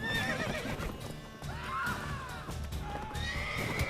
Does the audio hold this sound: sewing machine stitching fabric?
no